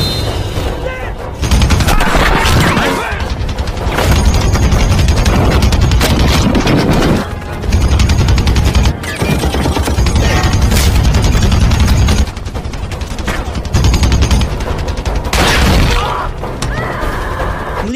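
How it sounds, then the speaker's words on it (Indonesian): A loud, chaotic gunfight from the action film Rambo 4, with dense bursts of automatic fire, booming blasts and crashing impacts in near-continuous volleys, broken by brief lulls, under a film soundtrack. "acara tembak-tembakan epik pun berlangsung edan di sana."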